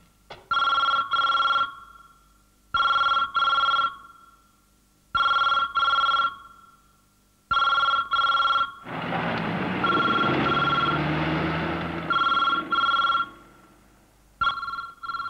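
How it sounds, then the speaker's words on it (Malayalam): A telephone rings in repeated double bursts of loud electronic trilling with short silent gaps between them, close and clear, while a rumbling noise like a passing train swells in the middle. "ഫോൺ റിങ്ങിന്നുണ്ടല്ലോ."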